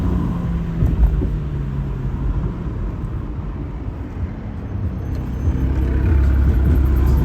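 A 500+ hp Striker car revving on a downtown street, a loud, steady engine roar that swells and rumbles throughout, close by, with no clear separate exhaust pops standing out.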